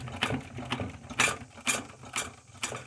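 A leather multitool belt holster is hand-stitched, giving a series of soft, quiet clicking and pulling sounds spaced about every half second, close and faint, with no talking.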